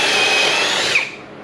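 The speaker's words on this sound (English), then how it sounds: "So I'm using my Ryobi drill to add these." A Ryobi compact cordless drill whirs steadily at high speed while boring pocket holes into a wooden desk top, then winds down near the end; close and loud, with no voices.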